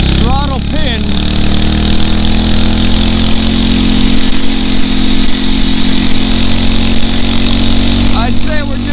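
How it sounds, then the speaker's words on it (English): A Phatmoto Rover 79cc motorized bicycle engine buzzes loudly and steadily at full throttle while riding unassisted, a continuous high-pitched drone with wind rumble, and a voice talks briefly over it. "It's the Phatmoto Rover. Here, I won't pedal to help it. I got the throttle pinned."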